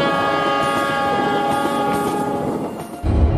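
Train in GTA 5 approaching along the rails at night, a sustained rumbling roar with steady horn-like tones, growing heavier and louder toward the end.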